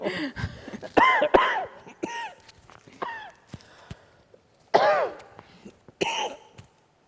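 Several short audience coughs and throat-clearing sounds scattered over a quiet room during a public talk, with brief shuffling noises between them.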